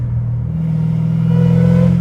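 A straight-piped Dodge Hellcat Redeye holds a loud, steady low exhaust drone up close, building slightly toward the end with a faint supercharger whine rising in.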